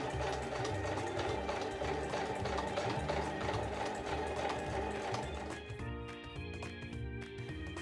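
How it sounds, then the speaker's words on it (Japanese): A sewing machine runs a basting stitch around layered bag fabric, a fast steady mechanical whir that slows and breaks into separate stitch clicks near the end. "ミシンをかけます。"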